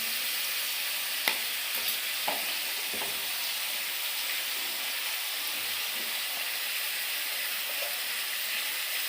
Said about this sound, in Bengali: এই বন্ধুরা ভেন্ডি আর আলু ভাজা হয়ে গেছে